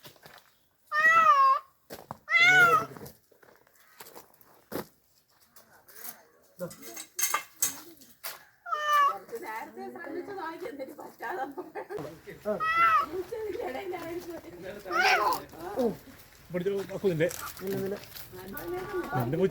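A cat meows twice loudly near the start, then meows a few more times while people talk over clattering dishes.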